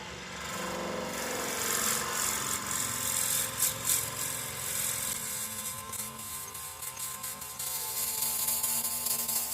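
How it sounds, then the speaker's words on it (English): A power drill bores through a cocobolo wood pen blank, giving a steady, continuous whirring drone with slight shifts in pitch, close and alone without speech. "Be sure you watch your speeds when you're drilling."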